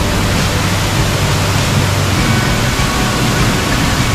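A waterfall at Bendewadi in a waterfall sanctuary, heard from right behind the falling water, pours as a loud, steady, broadband roar with no break throughout.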